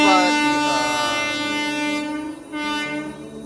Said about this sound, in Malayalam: ഏതോ ഒരു ട്രെയിന് വരുന്നുണ്ട് ഇത് കണ്ണൂർ ഭാഗത്തേക്ക് പോണ ട്രെയിനാണ്